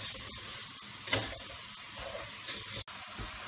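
A mung bean, coconut and sugar mixture is stirred in a pan, giving a quiet, steady scraping and soft sizzle with a few sharper knocks of the spoon.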